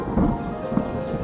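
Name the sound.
thunderstorm raging outside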